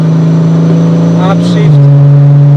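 Porsche GT3 Cayman with PDK dual-clutch gearbox cruising under light load, its engine droning loud and steady from inside the cabin, then dropping in pitch as it makes a single upshift; a voice talks over it.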